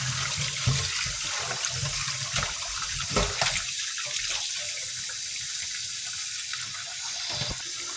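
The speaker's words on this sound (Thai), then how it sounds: "ล้างทั้งหมดด้วยน้ำใสเลยนะคะ" Fish is rinsed under running tap water in a kitchen sink, a steady close splashing gush that runs continuously with slight shifts as the water hits the fish.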